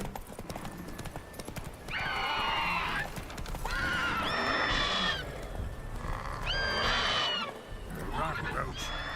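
Roach the horse in The Witcher 3 neighs repeatedly with high whinnies over steady clip-clopping hooves, fairly close and clear amid game ambience, with a voice speaking in between.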